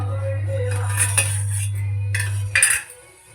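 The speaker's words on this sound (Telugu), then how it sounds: "గసాలు కూడా వేపుకోవాలి." Poppy seeds dry-roasting in a pan for a goat-head (thalakaya) curry: a spoon scrapes and clinks against the metal in loose strokes over a steady low stove hum, then stops near the end.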